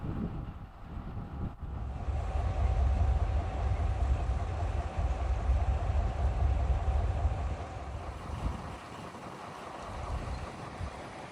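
A ballast cleaning machine train on the Kinzigtalbahn rolls slowly past on rails with a continuous heavy rumble and grinding drone, fairly distant and steady, with light wind noise on the microphone.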